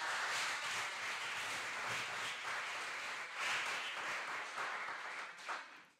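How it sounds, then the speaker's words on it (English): An audience at a talk on participatory democracy and citizen science gives warm applause for the panel speakers, a full, even roar of clapping that holds steady before tapering away at the close. "can you please give a warm applause to our dear colleagues"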